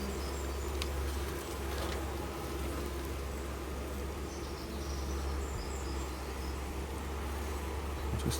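Honey bees buzz around a hive frame near a caged queen, a dense continuous hum that stays level and close throughout with no talking.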